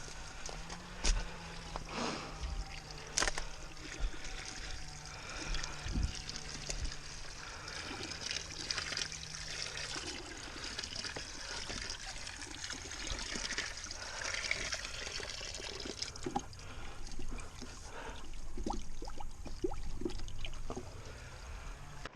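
Water from a ram pump trickles and splashes into a bucket in a garden setting, an irregular close pouring patter with scattered knocks and clicks throughout.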